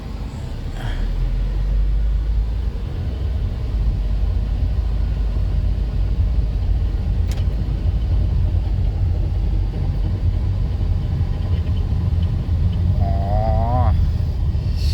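A Toyota Altis with a noisy gearbox gives a loud, steady low rumble and drone that holds throughout, with a brief whine rising near the end.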